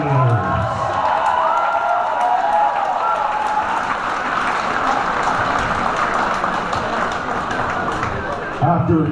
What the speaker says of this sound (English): another round of applause for these two gladiators